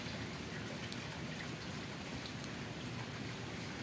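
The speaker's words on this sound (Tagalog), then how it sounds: "Makulimlim ang panahon kasi umuulan." Steady, dense rain falls continuously, a constant hiss of drops with no other sounds.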